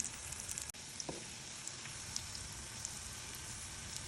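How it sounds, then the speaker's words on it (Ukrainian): Battered salmon belly trimmings frying in a pan with a constant low sizzle and scattered faint pops and crackles, close but quiet, with one small knock near the start. "Перше смажу цю обріз лососову. Обжарюється дуже швидко, тому що обріз вона ж тоненька."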